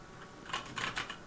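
Quick keystrokes on a computer keyboard while a kubectl command is entered, a short cluster of light clicks up close, faint and alone.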